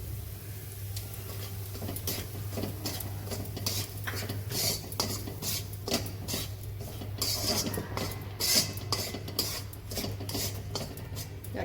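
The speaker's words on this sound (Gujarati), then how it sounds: "ને આપણે આ લોટ શેકી દઈશું." Flour is dry-roasted for Khambhat halvasan and scraped around a metal pan with a spoon, giving steady rasping and clinking strokes close up, with a low constant hum underneath and no talking.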